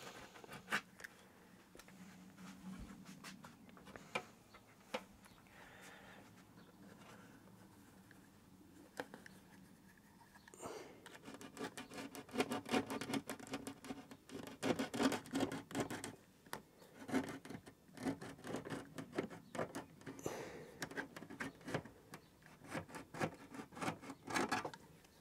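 A blade cuts around black telescope flocking material in soft scraping and rasping strokes, quiet at first and then busier with light rubbing and tapping noises, with no talk.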